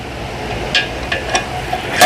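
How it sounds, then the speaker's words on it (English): A light hammer strikes a part of a CVT transmission during a forced teardown, giving a few sharp metallic taps over a steady background hum. "Now I could probably get this light hammer. Hit it right there."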